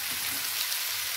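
Onions and tomatoes sautéing in a pan, a steady soft hiss and crackle of frying, close and continuous, with no talk.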